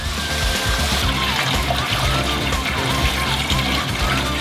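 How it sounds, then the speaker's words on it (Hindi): Water pours and splashes steadily as excess water is drained off boiled potatoes, a continuous trickling and sloshing stream with background music running underneath. "एक्स्ट्रा पानी निथार ले"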